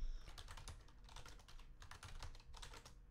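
Fast, steady typing on a computer keyboard, a run of close, crisp key clicks with brief pauses, heard alone with no talking.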